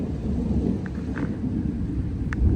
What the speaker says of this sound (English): We just got hit with a bunch of rain, hail.